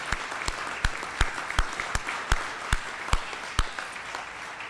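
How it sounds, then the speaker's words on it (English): A graduation audience at UC Riverside breaks into a round of applause for a state senator: steady, fairly close clapping from a crowd with sharp individual claps standing out in a regular rhythm, and no voices over it. "I actually want him to have a round of applause."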